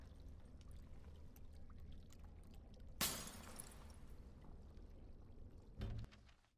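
Water poured from a jug back into a vessel in Dragon Age: Origins, a short faint splash in a quiet scene, followed by a second brief pour near the end.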